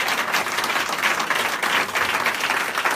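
A church congregation breaks into loud, sustained applause, a dense wash of many hands clapping at once that fills the space for a few seconds.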